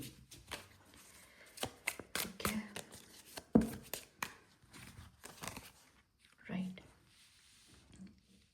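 Tarot cards rustle and snap as they are shuffled and drawn, a series of short papery clicks and flicks interspersed with soft, close speech.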